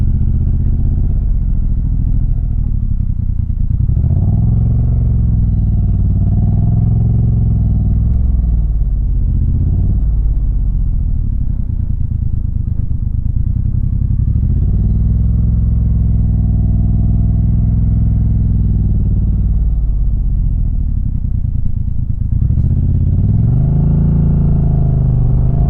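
A motorcycle rides along a road in North Carolina, its engine droning steadily and loudly up close, rising and falling as it speeds up and eases off, with no talking over it.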